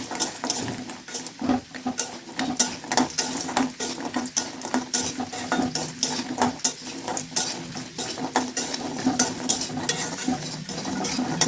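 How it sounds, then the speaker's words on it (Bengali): Lentil dumplings fry in oil with cumin and dried chilli in a wok, a crackling sizzle under rapid, repeated spatula scrapes and knocks against the metal, close and busy throughout. "বড়িটা খুব সুন্দর করে ভাজতে হবে"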